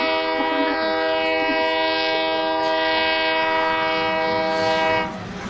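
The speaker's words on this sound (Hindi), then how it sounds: "तभी दूर से आ रही किसी ट्रेन के हॉर्न की आवाज कानों से टकराई।" A train horn blares in one long, sustained, steady chord lasting several seconds before cutting off, with rail rumble beneath; it sounds moderately distant but loud.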